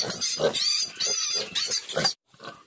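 Sow in a native farrowing pen on a farm, grunting and squealing loudly and repeatedly in close, continuous bursts, then a short pause and a softer grunt.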